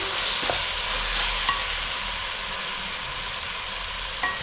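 Mutton biryani masala with garam masala fries in a pot in a village-style kitchen while a spoon stirs it, giving a loud continuous sizzle with occasional scraping knocks against the pot.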